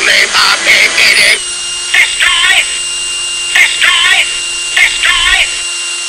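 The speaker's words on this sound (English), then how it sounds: "let's get this locked in and ready, and we'll get that drilled" A power drill fitted with a Forstner bit bores holes in wood for a woodturned Dalek. The motor whines steadily while short grinding bursts repeat as the bit cuts, several passes in a row.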